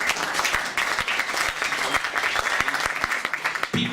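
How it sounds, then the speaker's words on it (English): Audience applause at a comedy club in Munich, a sustained burst of dense clapping from a crowd, fairly loud and steady, fading slightly at the end. "I accept German applause."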